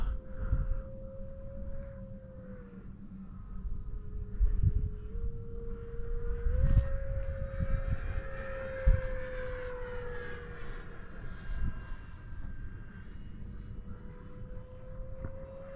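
Faint distant drone of an RC airplane in flight, a Viper or Turbo Timber Evo, its engine pitch holding steady then shifting and easing as it passes overhead outdoors.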